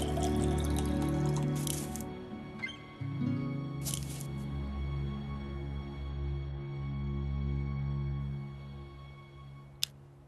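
Water dripping in the video game Gray Matter, a few sharp distinct drips spaced seconds apart over a low ambient hum and background tones.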